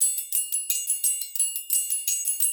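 Drum and bass hi-hat loop run through a resonator tuned to F and a Corpus effect, giving quick bright ticks a ringing metallic tonal shimmer, steady repeating rhythm, alone with no voices.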